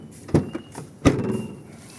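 Car door on a 2016 Mitsubishi Pajero Dakar swung shut: two solid, close thunks about three-quarters of a second apart, with a short, muted rattle trailing the second.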